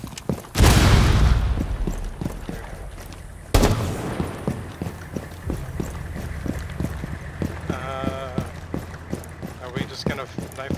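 Gunfire in the tactical shooter Rainbow Six Siege crackles as two loud, close shots, followed by a steady rhythm of lighter thuds and footsteps, with a person talking over the action.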